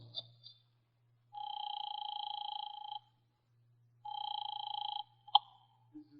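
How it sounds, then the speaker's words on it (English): Office telephone being dialed and ringing on the other end: two long, steady electronic ring bursts about three seconds apart, followed by a sharp click as the line is picked up, heard clearly in a quiet room. "I grabbed the office phone and dialed Wolfe at once."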